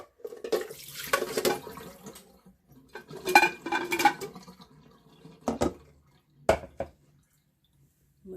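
Cold tap water running into a sink over boiled eggs in a pan, several gushing bursts with splashing and clinks of the pot, then brief drips and pauses.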